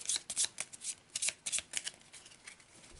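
A deck of cards being shuffled, a quick series of crisp riffling bursts and soft slaps, fairly quiet and with no voices.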